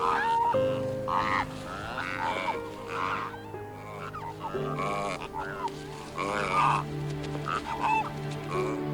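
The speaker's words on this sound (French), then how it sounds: "3 millions de cormorans guanaïs se rassemblent chaque année pour élever leurs poussins" A huge breeding colony of Guanay cormorants fills the air with overlapping honking, croaking calls, dense and close, some voices rising above a constant chorus of the flock, with no talk.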